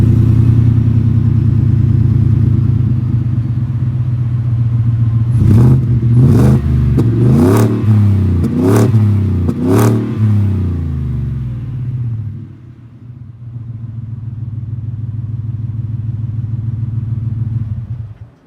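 A 2026 Ford Lightning truck fitted with a new exhaust idles in a deep steady rumble, then several short sharp revs swell and fall one after another before settling back to a loud close idle that dips briefly and resumes.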